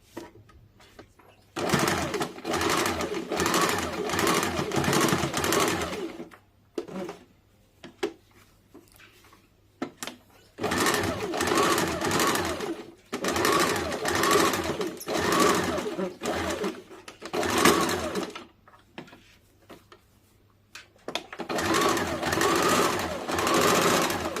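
A sewing machine stitches a blouse seam in long whirring runs, close and loud, stopping and restarting several times with short quiet gaps between the bursts.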